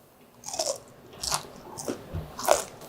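Crisp fried chili pepper bugak, glazed in soy sauce seasoning, bitten and chewed close to the mic: a series of sharp crunches spaced across a few seconds, with no talking.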